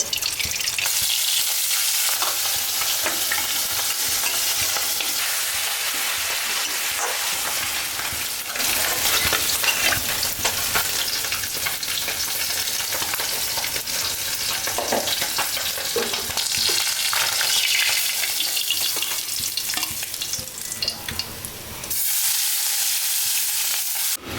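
Dried shrimp sizzling and frying in a pan with a paste of turmeric, chili powder, onion and green chili, a loud continuous hiss with stirring throughout.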